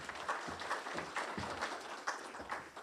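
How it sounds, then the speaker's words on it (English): Faint, scattered clapping from a small audience at a public meeting, a thin, distant patter with a few louder claps standing out, no speech over it. "Please give him a round of applause as he comes forward for his 2 minutes."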